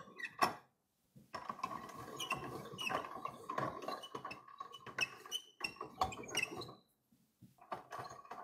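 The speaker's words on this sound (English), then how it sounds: "right before flattening it using the pasta machine" A hand-cranked pasta machine rolls smooth 00-flour pasta dough, giving a quiet irregular ratcheting rattle and clicking with short pauses, close up and with no talk.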